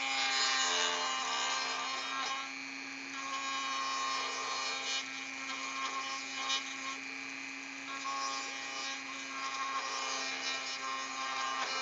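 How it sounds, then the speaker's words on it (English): Dremel rotary tool buzzing steadily at high speed while writing or engraving, a continuous close whine with slight grinding variations throughout. "The old Dremel tool."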